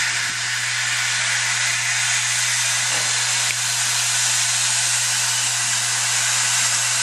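A steam locomotive on the North Yorkshire Moors Railway at Whitby, running the morning train during a wartime weekend, releases a loud, continuous steam hiss over a steady low hum, close and unbroken throughout.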